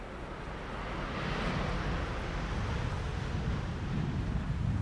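Wind blowing at Amsterdam Schiphol Airport near runway 18R, a steady loud broadband rush buffeting the microphone, rising slightly and continuing without pause.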